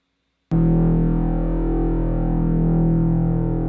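After a brief silence, a single loud, buzzy synthesized bass note starts abruptly and holds steady with a slightly distorted, harmonically rich tone.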